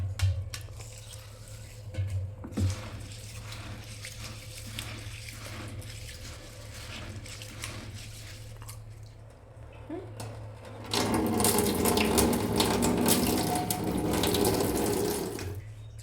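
Sorghum grits are washed in water under a tap with rattling, swishing stirring, then a louder rush of running water near the end, while people talk.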